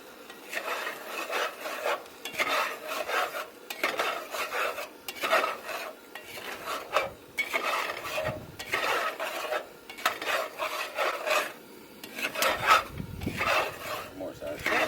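Food is stirred in a pot at a jeep campsite by an abandoned silver mine, close rhythmic scraping and rasping strokes repeating steadily, with a few clinks of metal.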